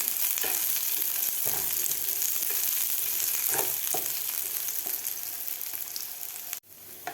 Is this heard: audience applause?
no